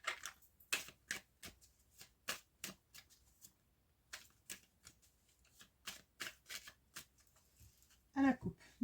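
A deck of tarot cards is cut and handled, with a string of sharp, quiet card snaps and flicks at uneven intervals in a quiet room, and a brief voice near the end.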